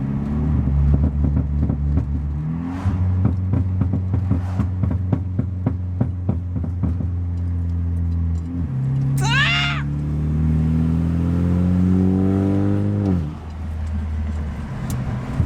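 A BMW revs hard with a rhythmic pulsing engine note, then accelerates away through rising gear pulls with a brief high whine, loud and close throughout.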